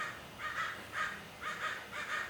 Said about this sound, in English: Clearly, the crows have something to say about this.